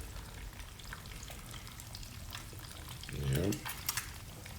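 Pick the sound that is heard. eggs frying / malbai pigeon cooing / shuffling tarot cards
eggs frying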